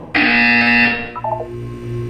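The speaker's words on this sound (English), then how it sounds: "When you hear the buzzer, look up at the ceiling." A loud harsh electronic buzzer from the video game Portal 2 blares for about a second, followed by a short descending series of softer tones and a low hum.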